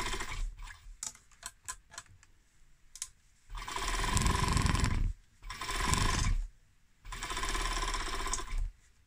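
A sewing machine stitches the shoulder seams of a top in a burrito-method enclosed seam: a few short starts and clicks, then three longer bursts of steady, rapid whirring stitching, close and loud.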